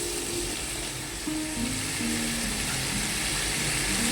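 Cut potatoes frying together with turmeric-coated prawns in a wok make a steady, moderate crackling sizzle that grows slightly louder toward the end, with gentle background music and no talking.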